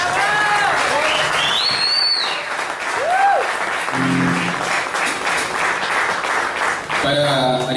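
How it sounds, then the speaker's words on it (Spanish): Loud, sustained audience applause at a live concert as a Chilean band is introduced, with whistles and cheers over dense clapping that carries on throughout. "Fuerte el aplauso para él."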